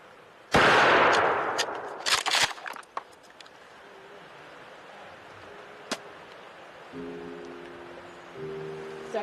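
A sharp gunshot cracks near a bear outdoors, followed by a few quick smaller bangs and rustles, then quieter ambience with a brief later crack and a low hum toward the end.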